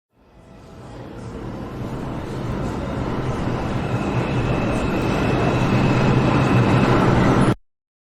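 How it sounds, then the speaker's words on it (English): A subway train rumbles along the tracks, a loud, steady low roar that builds over several seconds before cutting off abruptly. "Let's take the subway."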